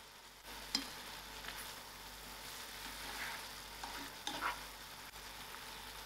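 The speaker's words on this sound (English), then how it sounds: "I'll allow this to cook till the tomatoes are done" Tomato sauce for smoked haddock pasta simmers and sizzles softly in a pan, with occasional scraping stirs and clinks over a steady low fry, no voices.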